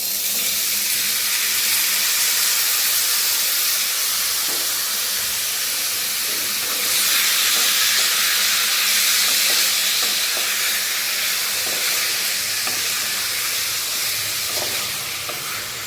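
Marinated meat goes into a pot to cook, a loud continuous hiss and sizzle like steam or running water that holds steady throughout, close by, with faint clinks underneath and no talking.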